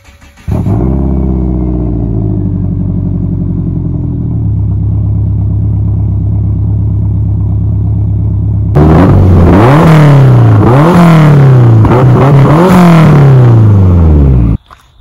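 A 1999 Subaru Impreza WRX fitted with a Canon muffler cranks and starts, settles into a loud, steady idle, then revs repeatedly in sharp rising and falling bursts. Close and loud, with no talking.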